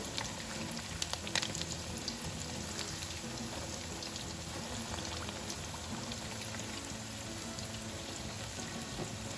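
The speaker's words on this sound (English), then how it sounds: "Once the oil is hot enough, pour in your egg mixture into your wok" Egg mixture thickened with cornstarch, for a crab and shrimp egg foo yong, is poured into hot oil in a wok and sizzles and bubbles loudly and steadily throughout, close up, with no talking.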